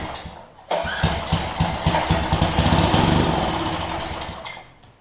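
A Tecumseh engine on a Coleman 1500 psi pressure washer, running on starting fluid, catches after a brief crank and runs with a loud, close, rough chugging putter for several seconds, then fades as it dies down.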